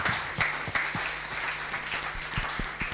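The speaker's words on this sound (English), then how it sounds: "So give a huge applause to the whole panel." An audience at an angel investment day panel in 2018 claps for the panel: a steady wash of applause with some sharp individual claps standing out.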